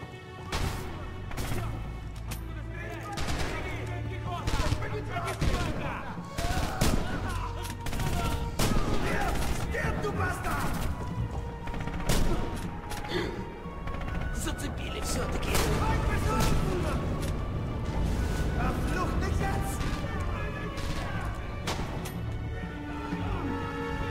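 A battle in Red Orchestra 2: Heroes of Stalingrad brings dense gunfire, with rifle and machine-gun shots, crashes and booms sounding both near and distant throughout, while voices talk over the combat.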